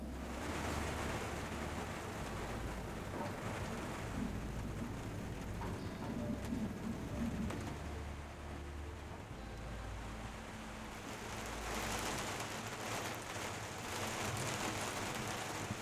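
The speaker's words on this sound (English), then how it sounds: "it just started raining a little bit" Light rain falling outdoors in timber on a Michigan farm, a steady broadband patter and hiss that fills the whole stretch with no voices, swelling slightly toward the end.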